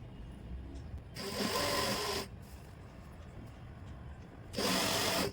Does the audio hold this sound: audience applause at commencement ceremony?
no